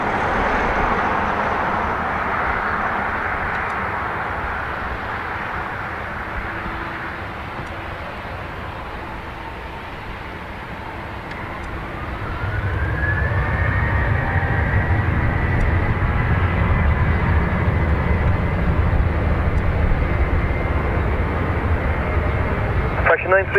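A Ryanair airliner accelerates down runway 28 right at Dublin Airport, its jet roar swelling from a distant hum into a loud, sustained rumble that holds steady to the end, with radio chatter beneath.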